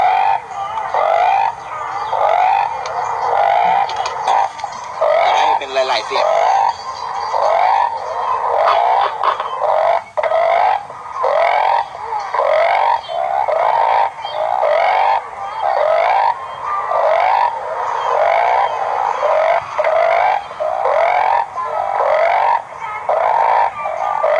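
A recorded chorus of chubby frogs, or narrow-mouthed toads, plays back loud and close as a steady, evenly pulsing series of croaks lasting throughout.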